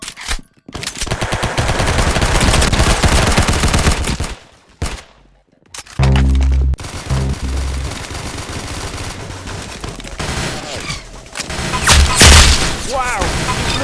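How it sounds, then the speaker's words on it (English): Gunfire in the Roblox game Arsenal, with rapid loud bursts of automatic shots and heavy booms, interrupted by brief silences. "Very good shooting."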